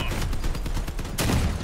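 Vehicle-mounted guns fire in a dense burst during a Crossout vehicle combat match, loud and close, with a heavier blast about two-thirds through.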